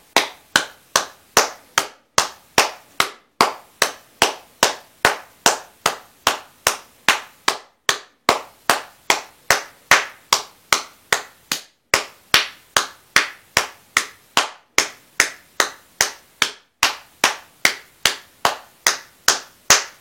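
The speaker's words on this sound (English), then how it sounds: "30 times as if you're clapping, okay? It's just that you're doing it between your bottom of your feet and your hand." Hands slapping against the soles of the feet in a steady, even rhythm, about two sharp claps per second, repeated dozens of times at close range with no talking over them.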